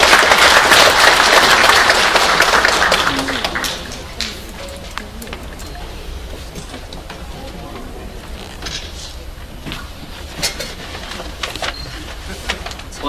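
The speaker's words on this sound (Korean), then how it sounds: "여러분 박수로 환영 좀 해주십시오" Audience applause at a job-creation forum welcoming the National Assembly speaker, a dense burst of clapping for about three seconds that fades quickly into quiet room noise.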